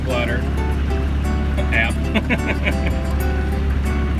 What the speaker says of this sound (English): Engine's running and we're moving forward through the water, which is good.